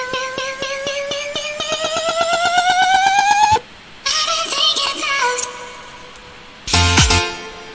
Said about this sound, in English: I've taken the last U on the vocal and used it as like a synth essentially to pitch it up as a riser.